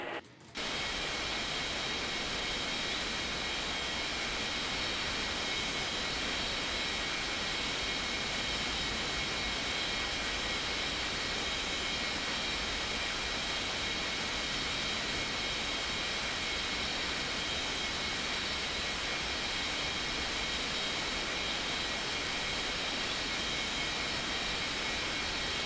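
Jet airliners, a B737 and an A320, taxiing in an air traffic control game, a steady, unbroken engine roar and whine that starts abruptly and holds constant and loud throughout, with no talking.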